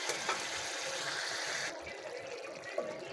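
Spice paste fries for a Malabar spinach curry, a soft continuous sizzle beneath low background music, fairly quiet throughout.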